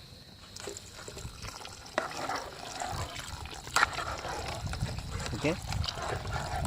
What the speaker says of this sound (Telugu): ఇప్పుడు మనం దీంట్లో వాటర్ పోసుకుందాము.